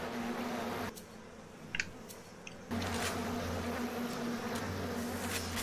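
Bees buzz in BioShock, a steady droning hum that cuts out briefly and then returns at full strength, with no talking over it.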